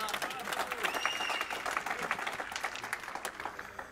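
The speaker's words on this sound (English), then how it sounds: "Good applause from the crowd." Crowd applause at a short mat bowls final, the UK Open, greeting a good bowl: steady, dense clapping that runs throughout at moderate level, with a few voices mixed in.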